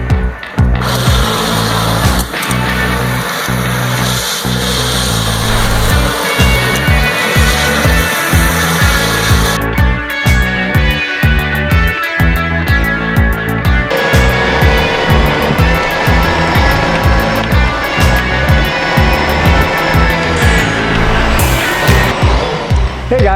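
A Fisher-Price Power Wheels Corvette C7 ride-on toy car, switched to stock rear wheels and boosted with an 18-volt lithium battery, whines loudly and continuously as it drifts, with rhythmic rattling and scraping from the tires, its motor tone changing partway through.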